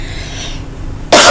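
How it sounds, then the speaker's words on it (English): A woman's single loud, close cough bursts out abruptly after a moment of low background hiss. "Excuse me, y'all, for coughing."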